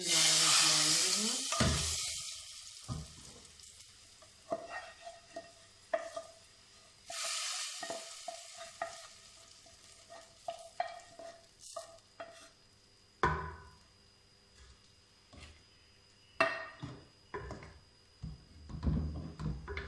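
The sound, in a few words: stirring and mixing dal in a pan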